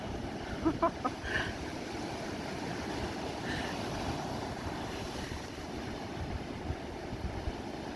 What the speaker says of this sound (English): We've got the wind on our back.